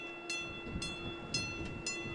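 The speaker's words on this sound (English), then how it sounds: "All is quiet in downtown Buffalo except for this single train on Main Street." Single train moving along Main Street in downtown Buffalo during an early March snowstorm, heard as a steady low rumble with a sustained tone and periodic bright squeals or clanks, with no voices.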